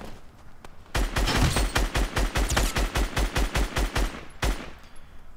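Rapid bursts of automatic gunfire from the mobile version of Fortnite, a dense run of evenly spaced loud shots for several seconds, then a final shot after a short pause.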